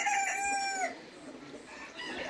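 A Brahma rooster kept in a stall crows once in a drawn-out, tonal call that breaks off partway through, followed by quieter clucking and farmyard ambience, heard at a moderate distance.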